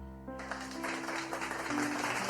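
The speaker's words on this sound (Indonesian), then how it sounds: "Tepuk tangan untuk kedua mempelai yang berbahagia." Wedding guests applaud the bride and groom at a live wedding reception, a steady broadband patter of clapping over a sustained musical tone and low background hum.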